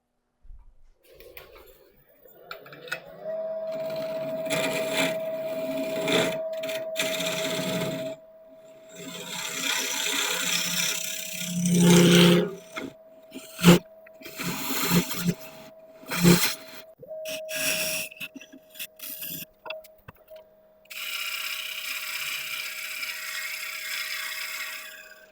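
Wood lathe spinning a workpiece while a tool cuts a recess, a steady motor hum under intermittent scraping and rasping bursts of the cutter against the wood, pausing between passes, close and fairly loud.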